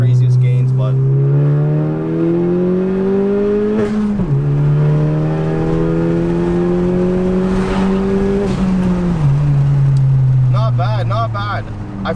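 A 2018 Honda Civic Si with a 1.5T turbo engine and a Cobra intake accelerates hard under load, its tone climbing steadily through two gear shifts, loud and close throughout.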